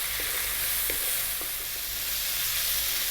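Leftover turkey and cilantro frying over high heat in a pan, a loud, dense and continuous sizzle that holds steady with no talking.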